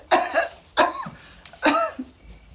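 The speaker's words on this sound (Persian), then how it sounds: "چرا سرفه میکنی؟" A man coughs three times in quick succession, each cough a harsh burst with short pauses between, close and fairly loud, alone without talk.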